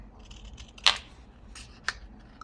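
Scissors snip through scraps of paper while sorting pieces for a junk journal, two short sharp cuts about a second apart in a quiet room.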